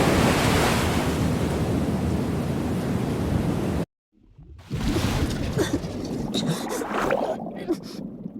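Loud, steady rush of ocean surf and wind fills the Love and Deepspace video game scene, cuts to silence for a moment, then the roaring water returns with choppy, fluctuating texture.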